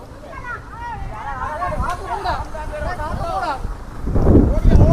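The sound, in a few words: wind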